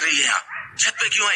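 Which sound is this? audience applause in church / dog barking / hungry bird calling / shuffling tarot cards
dog barking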